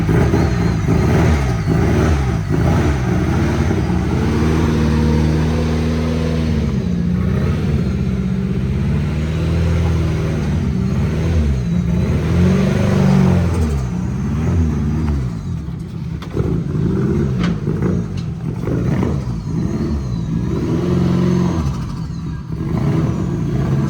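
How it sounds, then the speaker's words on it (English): A Nissan 240SX with a KA24DET engine revs loudly and steadily, its throttle rising and falling in repeated swells close by with no talking. "You have to kind of really step on the gas in order to keep it alive."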